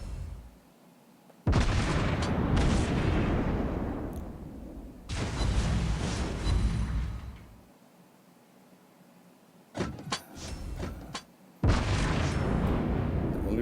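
Heavy warship turret guns fire in World of Warships in three long, loud broadband salvos that roll and decay over a couple of seconds each, separated by near-silence and followed by a short burst of sharper cracks.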